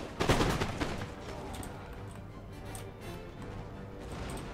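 Musket volley fire in the Empire: Total War strategy game: a dense crackle of overlapping shots bursts out at the start, then settles into scattered popping and a low battle rumble, fairly quiet overall.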